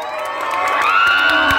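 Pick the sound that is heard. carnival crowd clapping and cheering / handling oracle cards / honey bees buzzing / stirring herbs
carnival crowd clapping and cheering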